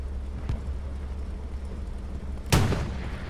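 A tank cannon round fired in the video game Hell Let Loose, with one sharp, heavy boom and a short rumbling tail. A fainter thud comes earlier over a low steady engine drone.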